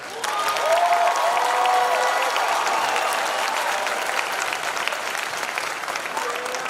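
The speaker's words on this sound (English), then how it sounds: "let's give the YCA cadre and staff a thunderous round of applause." Sustained applause from a large audience at a Youth ChalleNGe Academy graduation ceremony, a dense steady clatter of clapping that fades slightly over several seconds, with some murmuring voices beneath.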